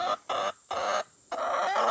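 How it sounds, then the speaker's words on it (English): Homestead chickens cluck loudly and close by in three or four quick bursts separated by short pauses, with no talk over them. "The chickens."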